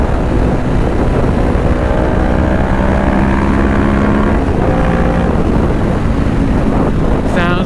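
Engine of a 2020 Honda CBR500R on a night ride, a steady loud drone with rising and falling harmonic tones as it revs, mixed with constant wind rush and no talking.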